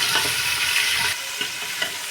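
A kilo of mutton fries with a loud broad sizzle in a karahi, with stirring strokes scraping the pan. The sizzle drops abruptly partway through and settles to a quieter crackle.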